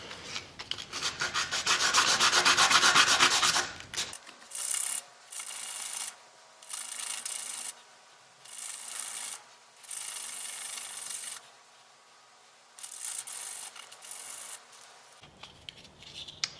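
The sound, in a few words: hand sanding a model F-16 part flat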